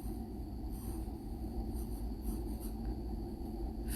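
Pencil scratching steadily across paper while a young child practises writing a sentence, a continuous soft scraping close by with no talking.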